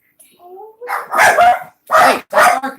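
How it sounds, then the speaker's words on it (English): A dog barks in a few loud bursts close by, mixed in with a voice talking during a Minecraft livestream on PS4. "Hey, stop barking, dang it. Dog's going crazy again."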